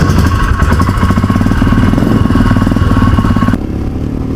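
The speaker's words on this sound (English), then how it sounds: "This is their new 411cc oil cooled engine." A Royal Enfield Himalayan motorcycle's 411cc oil-cooled engine idles steadily up close with a rapid, even mechanical thrum and clatter, then drops slightly in loudness near the end.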